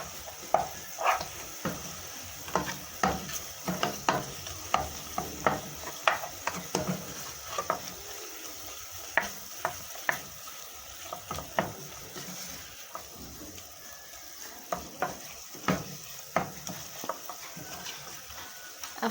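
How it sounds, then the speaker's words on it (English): A spoon stirs flour into beef stew in a pot, giving repeated scraping strokes at an uneven rhythm for about twenty seconds over a soft background sizzle, close and fairly quiet. "So I'll add that flour, then I stir and make sure that everything mixes in well."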